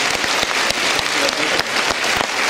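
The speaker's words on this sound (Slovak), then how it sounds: "Veľký potlesk pre ňu." Audience applause at the Slané mosty 2011 event, dense and loud, with many hands clapping steadily together for the whole short stretch and no speech over it.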